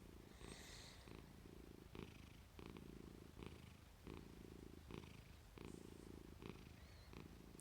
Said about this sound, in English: she's always purring.